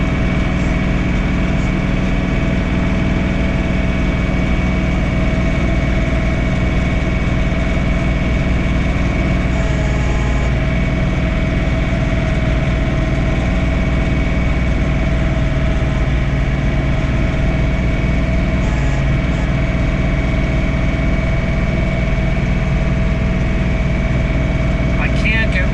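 A John Deere 3046R compact tractor runs a snow blower at about 2,500 RPM, giving a loud, steady engine drone with a constant whirring hum throughout, close to the microphone.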